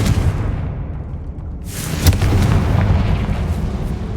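A fiery Confringo blast spell in the Hogwarts Legacy video game: a steady low rumble that swells into a loud, sudden explosive boom, then a broad crackling roar that lingers and slowly fades.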